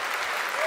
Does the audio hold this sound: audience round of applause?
yes